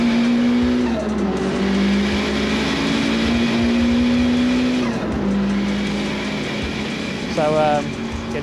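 A 430bhp Renault Clio race car accelerates hard on a circuit, its engine loud and close from inside the cabin with a rising drone and a brief tyre squeal near the end; a voice speaks over it.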